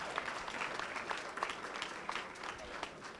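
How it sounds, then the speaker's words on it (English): A crowd gathered at a municipal inauguration in Dolton claps in a round of applause, moderately distant and fairly quiet, with faint voices mixed in. "Let's give yourself a nice round of applause for making this happen"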